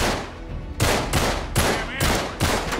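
Bursts of rapid gunfire from a third-person shooter in Uncharted 3: Drake's Deception on PS4, loud and close, arriving in several separate volleys with a faint voice underneath.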